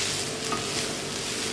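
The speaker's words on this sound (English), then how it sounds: "We're going to add in the soy. All right, we're going to mix that up." Onion, garlic and soy sauce being stirred in a hot pan, a steady close sizzle with soft scraping throughout, no voices.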